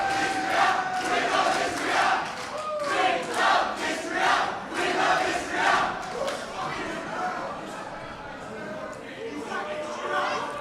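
A crowd at a wrestling event at the St. Clair Recreation Centre in Australia roars and chants in rhythmic surges, loud and close, with commentary talk over it.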